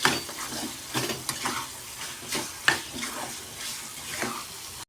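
Bitter gourd pieces fry in hot oil with a steady, crackling sizzle, broken by a few sharper stirring scrapes and clinks of a utensil against the pan, close by with no talking.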